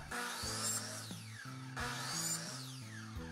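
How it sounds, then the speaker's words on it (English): A chop saw fitted with a fine-tooth blade cuts through PVC pipe for a garden bed greenhouse frame, with two loud sawing passes, each with a whining motor and a sweeping rasp through the plastic, close up and with no talking. "you can use a chop saw with a fine-tooth blade as shown here"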